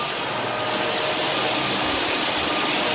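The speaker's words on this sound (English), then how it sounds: "It's gonna be loud so you can hear the sanders going and everything." Floor sanders grind over a red oak hardwood floor in a house, a loud, unbroken, rushing roar that fills the whole stretch with no pauses.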